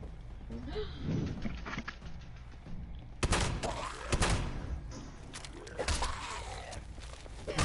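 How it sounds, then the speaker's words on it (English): Distant gunfire at Fort Defiance in the online game Fallout 76 crackles as scattered, sharp bursts and thuds amid footsteps and in-game movement sounds, fairly loud in the second half. "I hear gunshots."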